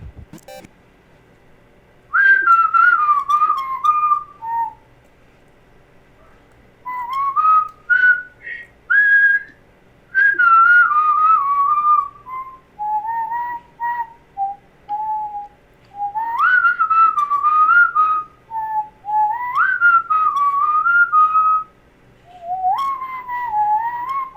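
A person whistles a wandering melody in bursts of bright, sliding notes with short pauses between phrases, loud and close, with no talking.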